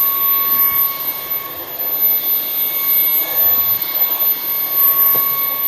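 A Bissell Cleanview XR Pet 300W cordless vacuum runs on its maxed-out power setting in a garage full of sawdust, giving a loud, steady, high-pitched whine and rush of air that holds unbroken throughout with no talking.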